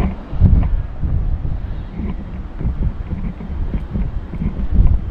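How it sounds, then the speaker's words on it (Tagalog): Strong wind buffets the microphone on a fishing boat at sea, a steady low roar with gusty swells and no voices. "Lakas ng hangin"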